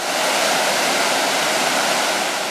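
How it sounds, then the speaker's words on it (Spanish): Waterfall at El Chorro, a steady, loud and close roar of rushing, churning water that fills the whole moment without a pause, with no voices. "Seguimos caminando y el sonido del agua aumenta su volumen."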